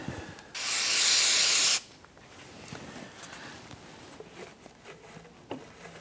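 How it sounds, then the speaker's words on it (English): Solvent cleaner sprays from an aerosol can in one steady, loud hiss lasting just over a second, used while working on a 2011-2021 Jeep Grand Cherokee 3.6L V6, followed by quiet shop noise. "spray it with some spray solvent"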